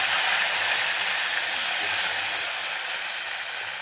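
Cumin, green chillies and whole spices frying in hot oil for egg dum biryani, a loud, continuous, close hiss that stays steady and fades slightly toward the end.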